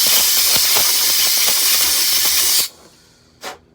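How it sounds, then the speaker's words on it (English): Compressed air blasts through a pressure washer hose in a loud, steady hiss for a couple of seconds, then cuts off, followed by one short, quieter puff. "Take my air, blow it out."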